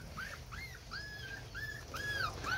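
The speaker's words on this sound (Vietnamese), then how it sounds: "Chó con nha." Dachshund puppies whimper in a string of about six short, high, thin whines, fairly close and alone over a faint background hiss.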